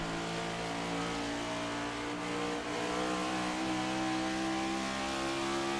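Race car engine holding a steady, continuous high-revving drone in a NASCAR-style racing video game at Rockingham, loud and unbroken with no talk.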